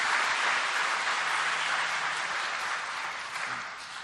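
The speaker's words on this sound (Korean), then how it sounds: "우리 환영의 박수로 함께 맞이하겠습니다." A congregation at Sunday Mass in a church gives a dense wash of welcoming applause for new catechumens, even and sustained, easing off slightly near the end.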